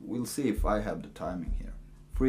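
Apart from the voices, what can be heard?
No everyday noises stand out.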